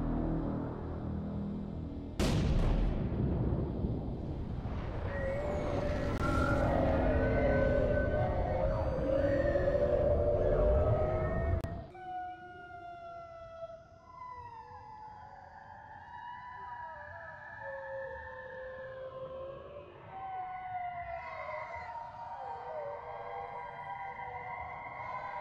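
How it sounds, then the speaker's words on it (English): Underwater sonar weapon priming in a mermaid mockumentary: a loud broadband swell with rising tonal wails, then a sudden cut to quieter, sparser whistling and chirping tones. "Then there was what we now understand to be the priming of the sonar weapon."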